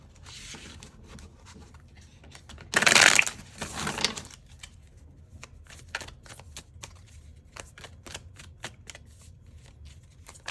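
Tarot cards shuffled in a burst of dense riffling near the start, then softer card handling and light taps, close and quiet with no talking.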